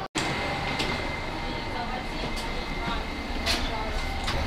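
Steady rumbling hum inside a driverless Dubai Metro train while riding in the front car, continuous and close, with faint higher rattles and squeaks surfacing now and then over the even drone.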